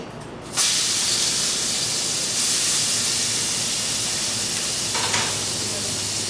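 Carrots hit very hot oil in a frying pan, setting off a sudden, loud, close sizzle that hisses steadily for several seconds with slight surges as they are tossed.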